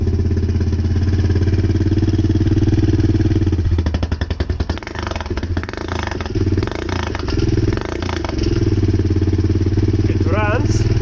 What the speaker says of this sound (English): I'm gonna now run the engine without spark plug.